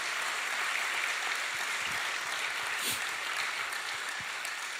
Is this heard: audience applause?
yes